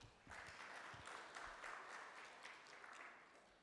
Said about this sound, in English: A round of applause to them.